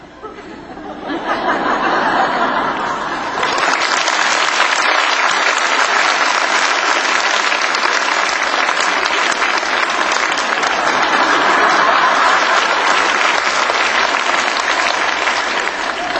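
Lecture audience at a church breaks into spontaneous sustained applause, building quickly into dense, loud clapping that continues with a few chuckles and murmurs mixed in.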